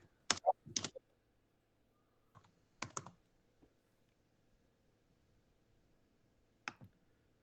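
Computer keyboard typing and clicking, faint sparse bursts of keystrokes with long quiet pauses between them.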